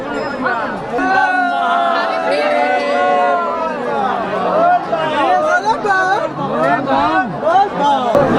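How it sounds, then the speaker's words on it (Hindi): A dense crowd at the Basukinath Dham temple in Jharkhand fills the air with continuous close chatter and babble, many voices overlapping at a steady, fairly loud level. "अभी बहुत ज़्यादा भीड़ है"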